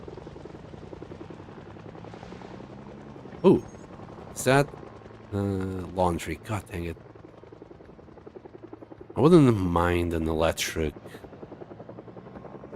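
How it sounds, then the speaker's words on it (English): A helicopter in Project Zomboid drones steadily overhead, its low rotor hum running beneath a voice. "Yeah, I think that's the helicopter gone."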